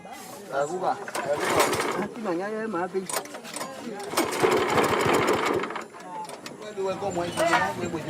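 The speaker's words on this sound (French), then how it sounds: "Elle a le coup de main pour faire démarrer le moulin à manioc sous les yeux des hommes qui font mine de s'y connaître" A small engine driving a cassava mill in a village is pulled into life and keeps running with a rough, buzzing mechanical chatter, mixed with voices speaking nearby.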